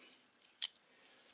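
One quick, crisp snip of the small scissors on a Leatherman Surge multi-tool, alone against near silence.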